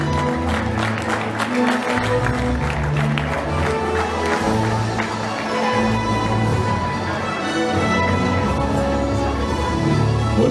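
An audience at a German indoor rowing championship in Essen-Kettwig applauds a silver medalist with steady, full clapping that lasts throughout, over loud music and a crowd murmur.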